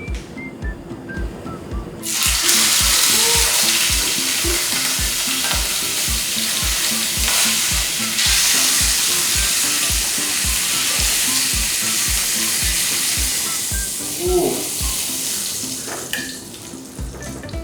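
Steak sizzles and fries loudly in a frying pan half-filled with oil, a steady dense crackle with rhythmic low knocking or stirring beneath, close and continuous.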